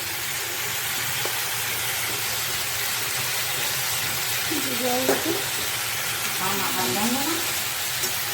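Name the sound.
cumin and ginger paste frying in oil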